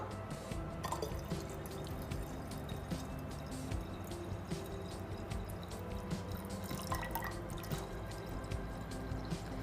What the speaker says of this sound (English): I can see I can pour more water.